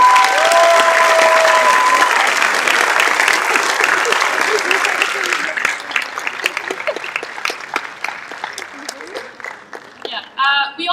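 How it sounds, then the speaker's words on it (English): Applause from a general assembly audience at a council meeting, dense and sustained at first, then thinning into scattered individual claps with some voices near the end. "please give a very big applause"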